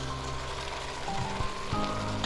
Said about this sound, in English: The meat has browned in with all the other ingredients there, and sizzling away.